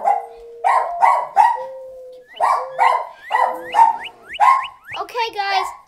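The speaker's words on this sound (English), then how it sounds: "Oh, I found another dog. It's a beagle." A beagle barks repeatedly in a modded Minecraft survival game, giving a run of close, clipped barks and yips in irregular bursts, with a voice briefly heard.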